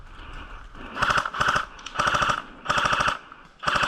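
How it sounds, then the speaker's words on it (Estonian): Airsoft gun fire during an outdoor airsoft game, heard as several rapid full-auto bursts of sharp cracking clicks, each lasting about a third to half a second, separated by short pauses, close and loud. "Meil siin üks tulistab ka kellegi pihta"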